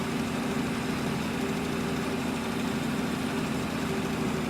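A farm tractor engine in a farming game runs steadily at idle, a constant low droning hum with no change in pitch or rhythm, alone and moderately loud.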